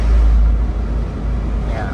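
A petrol car engine runs at around 3000 rpm while cruising near 80 km/h, a steady low droning rumble with road noise filling the cabin, as someone speaks over it.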